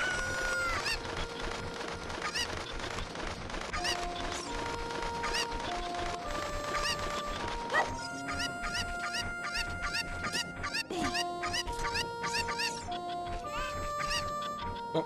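Cucco chickens clucking in The Legend of Zelda: Ocarina of Time, steady game sound with repeated short cluck and chime tones over continuous background music.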